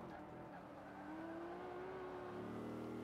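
A Nissan GT-R race car engine in Forza Motorsport 5 hums and climbs steadily in pitch as it accelerates, a smooth sustained drone at moderate loudness.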